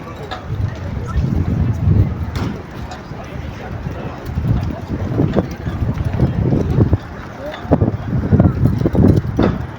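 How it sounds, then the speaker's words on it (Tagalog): Strong wind roars and buffets the microphone in a deep, continuous rumble that swells with gusts. Voices talk underneath. "Grabe ang lakas ng hangin."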